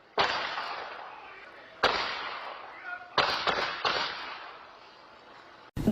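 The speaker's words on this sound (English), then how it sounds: "Gunshots captured on the next-door neighbor's Nest cameras erupted through this Arcadia neighborhood." Several loud, sharp gunshots ring out in a residential Arcadia neighborhood in Phoenix, caught on a neighbor's Nest home security camera: separate cracks spaced a second or so apart, with a quick close pair in the middle and a final shot at the end.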